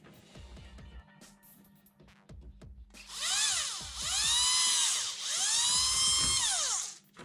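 An electric drill boring into the plastic cover of a PS4 Slim or Pro console, preceded by a few handling clicks and knocks, then two long loud high-pitched whining runs with a brief dip between them.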